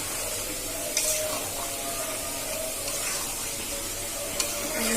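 A spoon stirs biryani in a pot right after lemon juice goes in, giving a steady low sizzle with two short scraping clicks against the pot.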